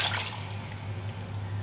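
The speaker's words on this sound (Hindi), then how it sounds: "इसी के अंदर यहाँ पर जाएगा पानी" Water is poured into a pan holding chicken, a quiet steady trickle under a low background hum, ending with a brief splash.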